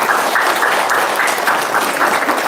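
Steady audience applause at a comedic talk on household harmony, a dense, loud wash of many hands clapping continuously with no pauses.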